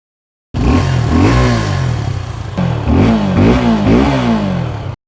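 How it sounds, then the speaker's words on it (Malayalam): A Suzuki Gixxer 250 motorcycle with twin exhaust revs repeatedly, its loud, close engine note swooping up and back down in several rising and falling pulls. "ഇതിന്റെ ഇരട്ട എക്സോസ്റ്റ് പൈപ്പിൽ നിന്നുള്ള ശബ്ദം കേട്ടുനോക്കൂ."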